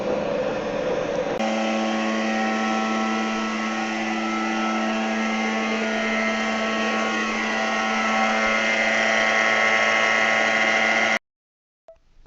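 A NordicTrack treadmill with a new motor and its cover removed runs steadily, giving a constant close hum and whir with a tonal drone that cuts off abruptly near the end.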